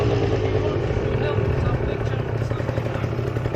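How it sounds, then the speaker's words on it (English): A vintage two-stroke motorcycle fitted with an aftermarket exhaust holds a loud, buzzing, raspy engine note close to the mic, with wind rush mixed in and a voice speaking briefly over it. "I'm just testing different exhausts, seeing the difference."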